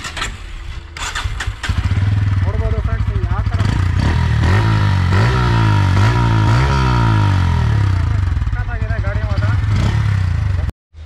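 A Bajaj Pulsar N160 motorcycle cranks and fires up, then settles into a loud, close, throbbing exhaust idle with slight rises in revs, running steadily until it cuts off at the end.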